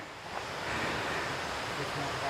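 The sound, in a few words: waterfall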